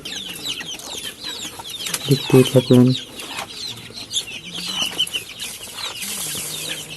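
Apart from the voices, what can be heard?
young chickens clucking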